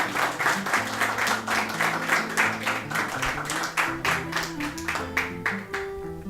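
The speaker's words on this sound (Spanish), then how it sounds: "quisiéramos pedir un fuerte aplauso para nuestro público y también para nuestra invitada" An audience at an intimate live music session applauds the crowd and the invited guest, steady clapping from many hands over soft instrumental music playing underneath.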